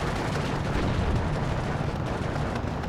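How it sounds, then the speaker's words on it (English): Incoming mortar fire pounds the battlefield in Steel Division 2, a dense continuous roar of explosions and rumbling impacts with no distinct gaps, loud throughout. "mortar fire coming in"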